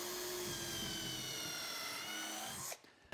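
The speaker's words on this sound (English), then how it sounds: "I just wanna drill a nice plumb pre-drilled hole." A power drill bores a pre-drilled hole into the wood of a raised garden bed, a steady close whine that runs for nearly three seconds and then cuts off abruptly.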